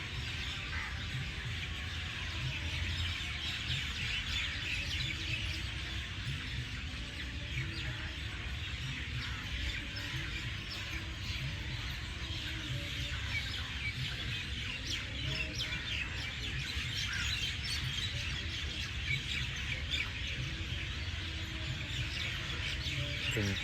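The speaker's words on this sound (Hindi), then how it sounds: "इन चिड़ियाओं के धुन व संगीत को महसूस करने की कोशिश।" A busy dawn-like chorus of songbirds chirping and calling without pause, with an occasional cluck-like call from fowl nearby mixed into the steady outdoor birdsong.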